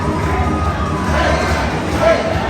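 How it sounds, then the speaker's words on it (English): Crowd cheering for wrestler Jackal Stevens at a CCW Meltdown 2022 wrestling show in Nashville, a loud, continuous roar of voices with children shouting mixed in, filling the hall without a break. "Listen to this crowd behind Jackal"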